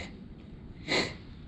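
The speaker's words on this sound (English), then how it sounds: "Excuse my sniffles, I got the corona." A single short, close sniff through the nose, quick and breathy, against a quiet background.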